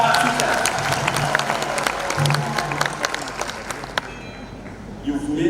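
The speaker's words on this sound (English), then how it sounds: "Let's clap for them one more time." A graduation ceremony audience at Victoria University claps for the graduates and their teachers, loud, steady applause from a large crowd that thins out in the final second.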